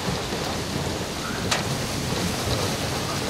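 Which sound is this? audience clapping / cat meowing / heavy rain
heavy rain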